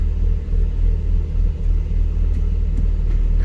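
A steady low Alfa Romeo GTV V6 engine rumble with a throbbing idle pulse, close by, holding even with only slight shifts in tone and no talking, during gear shifting.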